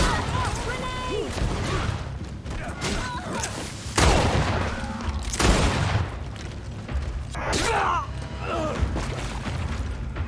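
A grenade blows up in the GreedFall video game, a loud boom landing mid-battle among other crashes and gunfire, with voices shouting through the fight.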